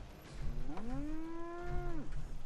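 A cow in the Fallout 4 video game gives one long, drawn-out moo lasting over a second, clear and fairly close, with a low background hum and no talking.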